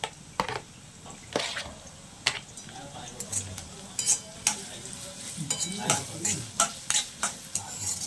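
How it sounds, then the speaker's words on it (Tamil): Two chopped onions frying in hot oil for an egg and chicken curry: a soft, steady sizzle runs underneath while a spoon clanks and scrapes against the pan in repeated stirring strokes, with a voice faintly present. "ரெண்டு வெங்காயத்தை நீங்கள் போட்டுக்கோங்க எண்ணெயில்"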